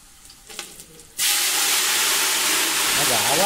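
Tempering (phodni) for vegetable dal hits hot oil at a vegetarian temple feast in Kumbhavade, Rajapur, bursting into a loud, steady, close sizzle after about a second of near quiet.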